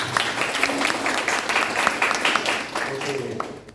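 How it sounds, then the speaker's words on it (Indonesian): Audience clapping fills a public speaking workshop hall, an even patter of many hands, with voices mixing in beneath the applause. "tepuk tangan untuk kita semuanya ya"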